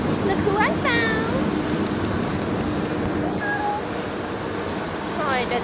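A cat inside a shop meows a few times, the short tonal cries rising and falling early on and again near the end, over a steady background hiss and people talking nearby.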